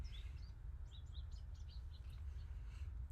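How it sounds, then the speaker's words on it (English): Birds chirping outdoors, many faint high twittering calls scattered across the moment over a steady low rumble of wind or distant traffic. "A lot of nice birds up there."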